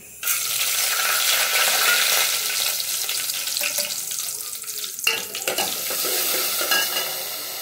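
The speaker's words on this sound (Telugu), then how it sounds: "ముందుగా ప్యాన్ పెట్టుకొని దీంట్లో ఆయిల్ వేసుకోవాలి. చూసారు కదా, ఆయిల్ వేసుకున్న తర్వాత పోపు దినుసులు వేసుకోవాలి" Tempering spices crackle and sizzle in hot oil in a pan, a steady loud frying hiss with a brief clatter near the middle before the sizzling carries on, no voices.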